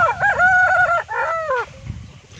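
A fighting rooster of the kind raised for bladed cockfights crows loud and close, one long rising and falling call broken by a brief dip, then trailing off into low background noise.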